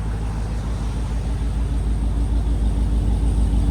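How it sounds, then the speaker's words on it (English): A Jeep Trackhawk with a supercharged 6.2L V8 and aftermarket exhaust idles in a steady, deep low rumble, loud and close, with no speech over it. "Got a nice idle to it. Here it is at idle."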